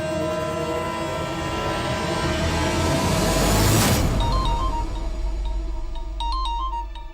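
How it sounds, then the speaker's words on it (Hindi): A mobile phone ringtone chimes in brief melodic beeps, rising clearly near the end of the clip over a steady low background hum with no talk. "ये मेरी मदर इन लॉ का फोन है"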